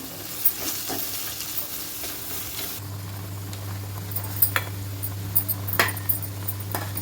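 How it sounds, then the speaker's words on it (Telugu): A pan of onions frying in oil with turmeric being stirred for a bitter gourd curry, a soft steady sizzle under scattered clicks and scrapes of the stirring utensil, joined partway by a low steady hum. "కొద్దిగా పసుపు పసుపు వేసి కలుపుతాను"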